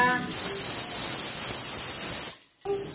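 A pressure cooker whistle on its fourth release while papad fries nearby, a loud continuous steam hiss that holds for over two seconds, cuts off briefly, then bursts again.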